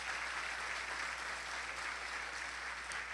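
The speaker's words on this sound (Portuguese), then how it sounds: "Vamos dar um aplauso ao Senhor Jesus." Short, steady round of applause from a church congregation, a uniform wash of clapping heard at moderate distance with no talking over it.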